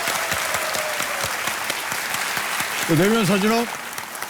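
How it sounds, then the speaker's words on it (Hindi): A studio audience on the KBC quiz show's children's special applauds a young contestant with steady, even clapping while the host speaks over it. "तालियों के साथ हम इनका अभिनंदन करते हैं।"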